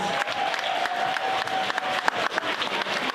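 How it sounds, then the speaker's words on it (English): Audience applause at a Grenadian diaspora gathering, a steady stream of hand claps with some sharper close claps standing out over a faint crowd murmur. "Give Delma and Gloria a round of applause again, please."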